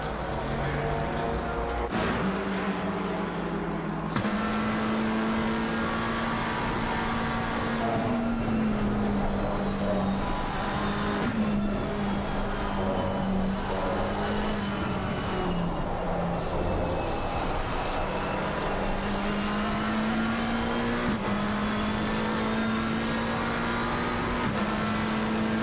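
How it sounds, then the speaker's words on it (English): Race cars in a sim racing game drive through heavy rain, a steady wash of rain noise under a continuous droning engine tone that shifts pitch with gear changes, loud and unbroken throughout. "You can get an idea of just how heavy the rain sound is for these drivers just now."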